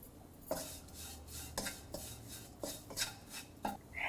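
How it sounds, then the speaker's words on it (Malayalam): A spoon scrapes and clinks against a pan while beef is stirred with Kashmiri chili powder and garam masala, giving several distinct metallic taps over a low, steady sizzle. "കാശ്മീരി ചില്ലി പൗഡർ, ഗരം മസാല എന്നിവയിട്ട് വഴറ്റുക."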